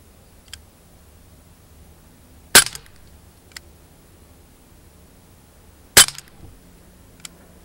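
Gamo PT-85 Socom air pistol firing: two sharp, loud cracks a few seconds apart, with fainter clicks and ticks scattered between them in a quiet setting.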